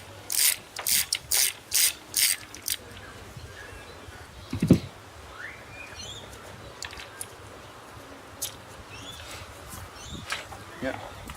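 A hand ratchet clicks in short rapid bursts, about six quick runs close by, while a 2000 Mercury 50hp outboard powerhead is taken apart, followed by a single knock and quieter workshop handling with faint chirps in the background.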